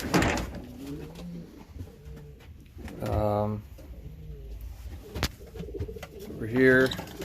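Racing pigeons cooing in a loft in low, throaty bursts with rustling and occasional knocks around them, a few coos louder and nearer than others.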